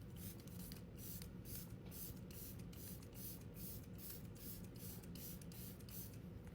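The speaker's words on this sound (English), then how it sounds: "I'm gonna spray my face pretty liberally with this Milk Matte Setting Spray." Milk Matte Setting Spray mists onto a face in a rapid series of short, soft hissing bursts, close and quiet, with no talking.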